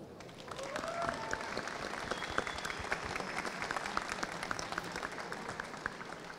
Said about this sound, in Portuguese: merece uma salva de palmas até aqui, ó.